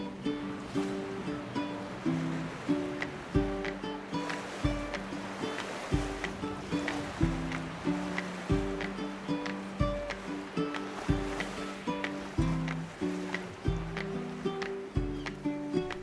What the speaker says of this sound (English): We're sailing our boat that we bought